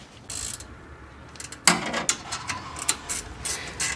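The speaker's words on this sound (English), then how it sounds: "I'm gonna put the 12mm bolts in right now." 12mm bolts being driven into a 2006 Nissan Xterra radiator, with a quiet stretch that gives way to a burst of rapid ratcheting clicks and metallic turning, close and fairly loud, alone without talk.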